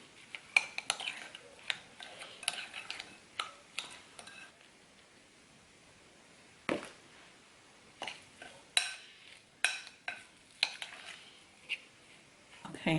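A spoon scrapes and clinks in a bowl of tuna patty mixture in irregular bursts of light taps and scrapes, close but fairly quiet, with near-silent pauses between strokes.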